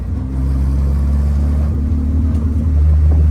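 A 1967 Morgan 4/4 on the road, its engine a steady, loud low rumble with strong harmonic drone that swells slightly near the end as the car pulls along.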